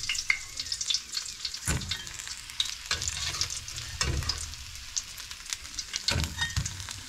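Fish sizzles and crackles steadily in hot oil close by, with occasional louder scraping stirs breaking through the frying.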